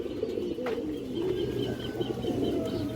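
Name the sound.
red chulli female pigeon cooing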